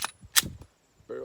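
A 9mm handgun on a P80 frame, fitted with an AR-style muzzle brake, fires single sharp cracks, one near the start and another just after, followed by a brief clang and a short voiced sound at the end.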